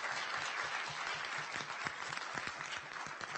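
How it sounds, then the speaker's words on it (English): An annual-meeting audience applauds a group of candidates, a steady crowd of clapping hands with individual claps standing out, moderately distant and continuous throughout. "I'd like you all to give all of them a round of applause."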